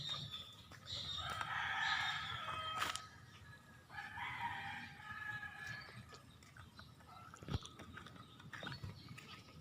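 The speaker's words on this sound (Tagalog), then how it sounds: "May dalawang manok" A rooster crows from a short distance, its drawn-out call rising over a steady outdoor background, followed by more muffled, fainter activity.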